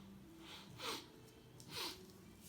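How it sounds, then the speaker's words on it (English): Two soft sniffs, about a second apart, drawn in quietly through the nose close by over faint background hiss. "Sorry about my sniffles."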